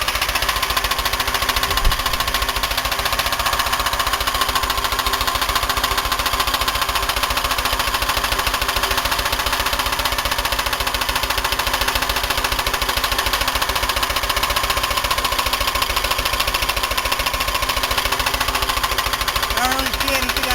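A Buick 3800 V6 engine runs with its valve covers off, giving a steady, loud mechanical clatter and ticking throughout with a constant idle hum and no obvious change in pace.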